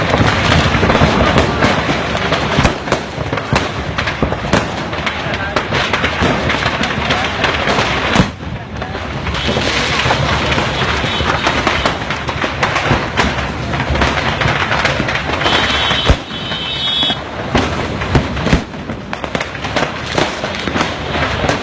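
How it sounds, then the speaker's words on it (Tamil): Firecrackers burst in a fire at a fireworks shop in Sivakasi, a dense, loud barrage of sharp cracks and booms that keeps going with no letup. "இதில் பட்டாசுகள் பயங்கர சத்தத்துடன் வெடித்துச் சிதறின"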